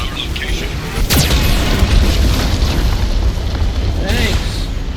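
Geth cannon fire in the video game Mass Effect 2: heavy booming explosions roll into a continuous loud rumble, with sharper blasts near the one-second mark and again around four seconds.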